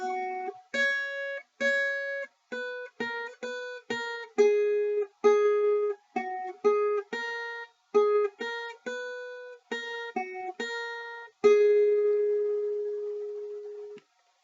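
Guitar played higher on the neck in a beginner band lesson, picking a steady pattern of clean, separate notes with short gaps, ending on one long ringing note that slowly decays.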